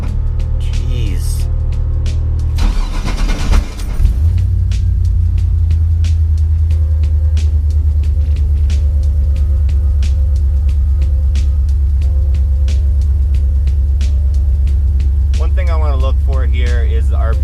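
An LS-swapped GMC S15 truck cranks briefly with a rough burst, then settles into a loud, steady low engine rumble with a faint ticking that continues to the end.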